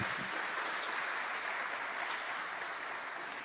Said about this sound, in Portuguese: Pode aplaudir mais uma vez.